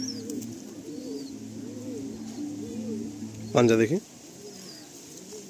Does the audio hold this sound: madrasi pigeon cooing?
yes